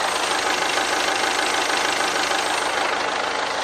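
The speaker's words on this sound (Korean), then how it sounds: "엔진 소음을 먼저 들려드리면은" A 2.0 diesel SUV engine idles steadily and loudly up close, a constant dense rumble with a faint knocking texture and no change in pace.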